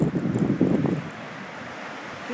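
A wind storm in Anchorage, Alaska roars past a driveway, buffeting the microphone with heavy low rumbling gusts that ease into a steadier whooshing wash.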